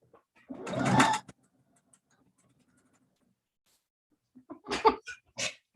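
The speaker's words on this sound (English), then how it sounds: "Still sewing." A sewing machine stitches a ruffle sleeve top in two short, close bursts of rapid mechanical whirring separated by a few seconds of near silence.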